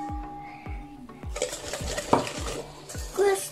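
A spoon scrapes and clinks rhythmically against a pot while sugar is stirred, with repeated knocking strokes and a light hiss of cooking, close up and with no talking.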